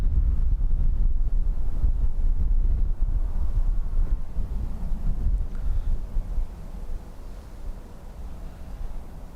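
Strong crosswind at Dublin Airport buffeting the microphone, a loud continuous low rumble that gusts heavily at first and eases slightly toward the end, with no voices.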